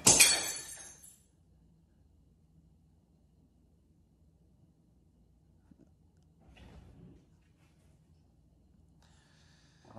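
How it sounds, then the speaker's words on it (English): Glass shatters in a garage during broken glass batting practice, one sharp crashing burst at the start that fades within a second, followed by near silence with faint rustling. "Next, the broken glass batting practice."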